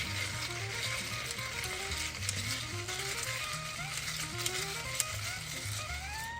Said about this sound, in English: And I'm going to top it off with the club soda. And now, I'm going to give it a little mix.